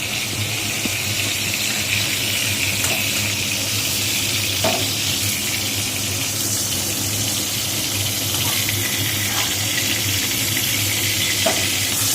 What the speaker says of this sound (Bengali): একটু নুন দিয়ে দিল দিয়ে এবার এটাকে ভেজে নেবে